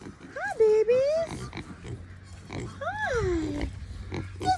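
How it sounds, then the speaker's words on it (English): Pigs grunt and oink at night, with a person talking over them in a high, playful voice; low snuffling grunts continue close by throughout. "This is my pig pigs."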